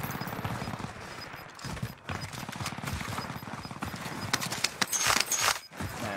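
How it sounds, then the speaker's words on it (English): Shotgun blasts in a multiplayer shooter game crack out as rapid, clustered bursts over a busy backdrop of game sounds, loud and close, with thumping shots repeating irregularly. "he's trying to shoot me with a shotgun"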